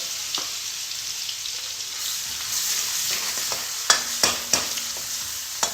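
Mustard seeds, cumin, crushed ginger and garlic fry in hot oil for rajma, a soft sizzle running throughout with sharp pops and stirring clatters growing louder toward the end.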